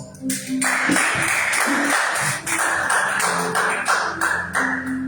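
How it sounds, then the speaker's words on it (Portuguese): A church congregation at a celebration service claps to welcome pastors, a steady, dense wash of applause with sustained tones underneath and a few voices. "Receba pastores com palmas."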